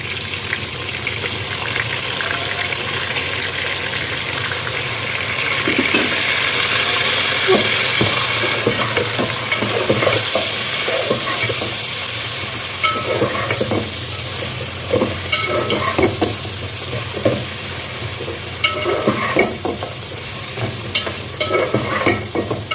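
Mutton fries in garlic ginger paste for Afghani pulao, a loud, steady sizzle close up with repeated stirring scrapes and clatters of a spoon against the pot throughout, with no voices.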